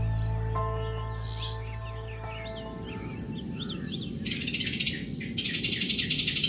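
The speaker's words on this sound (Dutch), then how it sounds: "Heel wat kleurrijker zijn deze geelvleugelaras, de nationale vogel van het zuidelijker gelegen Honduras." Yellow-winged macaws calling in Colombian rainforest, a cluster of harsh squawks and chirps that grows louder toward the end, with a low steady hum beneath at first.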